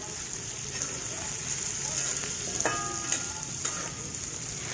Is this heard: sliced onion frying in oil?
yes